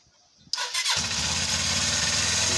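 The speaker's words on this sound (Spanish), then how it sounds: "La verdad es que arranca perfectamente y el sonido es muy bueno." A Suzuki GS motorcycle engine is cranked by the starter and catches almost at once, then settles into a loud, steady, throbbing idle close by, with no talking.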